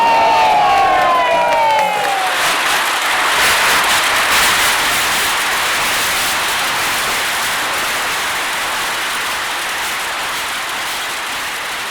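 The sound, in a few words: crowd applauding and cheering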